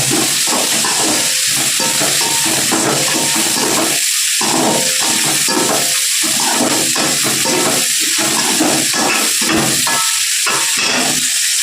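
Mint, curry leaves, coriander and a little chana dal sautéing in a hot pan. A loud, continuous close sizzle and hiss with bursts of stirring, and no talking.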